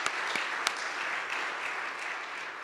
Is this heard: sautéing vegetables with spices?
no